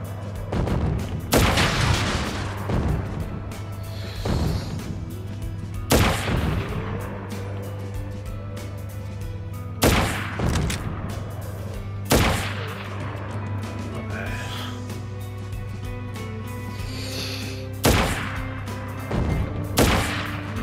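Cannon fire in the Crisis Core: Final Fantasy VII Reunion video game, with several loud booming blasts spaced irregularly over a steady game soundtrack hum.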